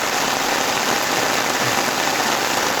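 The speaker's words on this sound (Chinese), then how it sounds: "開始下暴雨了" A heavy rainstorm pours down as a dense, unbroken hiss of rain pounding surfaces, loud and close throughout with no other sound breaking through.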